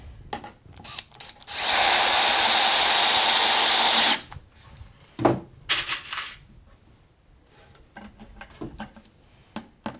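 A power drill drives a couple of screws into the base of a wooden hedgehog house, giving one loud continuous burst of about two seconds, followed by quieter knocks and handling sounds.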